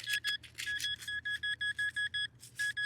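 A Nokta metal detector sounds a run of rapid, evenly spaced electronic beeps over rough terrain near a castle. The signal is close and clear and plays without talk.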